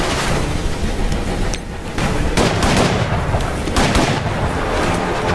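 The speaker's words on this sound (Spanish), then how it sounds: "Ahí viene la explosión de crossbow." Hawkeye's crossbow explosion in the Marvel Strike Force video game: dense, loud booming blasts and crackling bursts of battle effects, with repeated impacts over a continuous roar.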